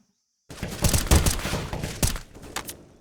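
Gunfire from a competitive shooter video game match on the Ancient map: a dense, sustained fusillade of rapid shots after a silent start, moderately loud, fading slightly toward the end.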